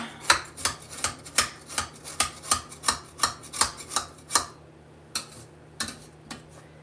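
A spatula scrapes butter from the sides of a spinning bowl, making a regular series of rasping strokes, close and fairly loud, that slow to a few scattered scrapes at the end.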